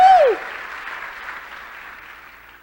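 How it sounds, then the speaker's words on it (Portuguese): Applause from a church congregation, loudest at the start and then tapering into a steady, fading patter of clapping with a brief voice at the outset. "Aplauda o Senhor por isso"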